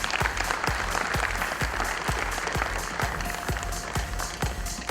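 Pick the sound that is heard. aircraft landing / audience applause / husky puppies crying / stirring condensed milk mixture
audience applause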